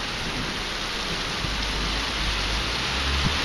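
Heavy rain pours down in a dense, even hiss that stays loud and unbroken, with a faint low rumble underneath.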